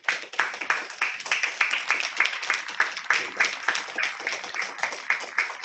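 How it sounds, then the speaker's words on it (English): A warm round of applause for Pro Football Hall of Famer Kellen Winslow: dense, steady clapping from an audience that holds fairly even for several seconds, rippling with individual claps. "we can give a warm round of applause to one of the great players and one of the great men of the game"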